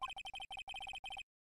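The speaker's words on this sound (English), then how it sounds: "I heard a phone ring just now." Electronic phone ringtone from the Phoenix Wright: Ace Attorney game, a quick repeating melodic chirp of short tone bursts in several bursts, clear and alone with no talk.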